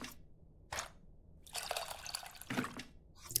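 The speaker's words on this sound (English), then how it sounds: "So we have to take these, put them in the water." Tamarind dropped into a bowl of water while cooking in the game Venba, giving a few separate soft splashes and drips up close, with brief pauses between the bursts.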